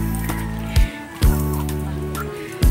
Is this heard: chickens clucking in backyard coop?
yes